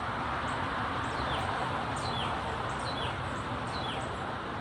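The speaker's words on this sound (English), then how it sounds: "Bird song makes me zone out." Faint, quick bird chirps repeat every second or so from a balcony, nearly buried under a steady, loud roar of distant traffic.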